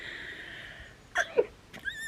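A single short sneeze bursts out over quiet background, followed moments later by a faint second breathy sound.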